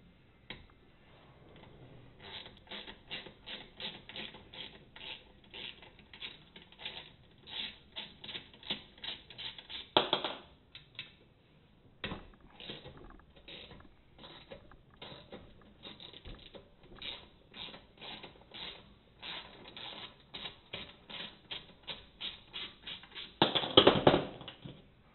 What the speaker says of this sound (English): first thing we have to do is remove our flange bolts